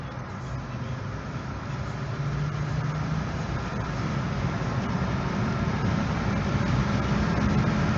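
A Fiat Stilo Abarth Selespeed 170 hp hatchback accelerating, heard from inside the cabin as a steady engine drone that builds gradually in loudness over several seconds amid road noise, with no talk.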